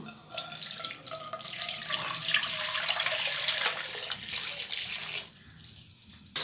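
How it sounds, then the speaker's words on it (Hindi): About 1.5 litres of milk pours into a kadai (wok) as the first step in making eggless strawberry ice cream. A close, continuous splashing gush runs for several seconds, then thins out. "मज़ेदार सी आइसक्रीम बनाने के लिए एक कढ़ाई में सबसे पहले हम डालेंगे दूध।"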